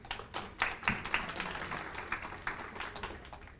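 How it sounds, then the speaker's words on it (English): Audience applause at an outdoor beautification awards ceremony: a scattered patter of clapping hands, moderately close, swelling briefly then continuing steadily for a few seconds without talk. "Please give them a round of applause."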